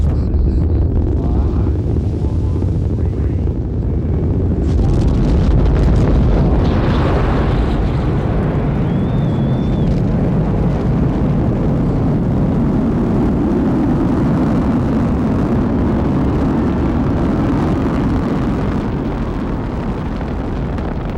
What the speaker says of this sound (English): T-10, go for main engine start. We are go for main engine start.